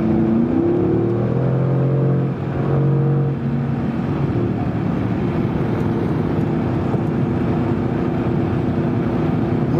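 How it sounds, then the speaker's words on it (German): A 2018 Mercedes-AMG GT R (C190) engine drones loud and steady at around 3250 rpm from inside the cabin, its low harmonics rising and shifting early on, blended with road and wind noise and no talking. "Jetzt höre ich den Motor"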